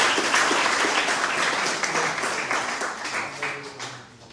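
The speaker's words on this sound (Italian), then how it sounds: "ancora un applauso, gli diamo un applauso" Applause from the audience at a youth excellence award ceremony in Pomigliano d'Arco, Italy: dense, loud clapping from many hands that slowly thins and fades over a few seconds.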